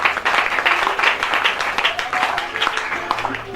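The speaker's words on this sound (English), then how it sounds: "Clap your hands to God." Church congregation clapping hands during Yoruba-language praise worship, a steady dense patter of many claps filling the clip, with voices and singing mixed in underneath.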